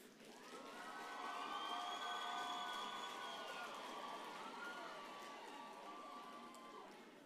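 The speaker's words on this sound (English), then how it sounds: "give them a big round of applause for the role that they've played in your life" A graduation ceremony crowd cheers and applauds parents, with long rising and falling shouts over a soft bed of clapping, all sounding distant and fairly faint but sustained.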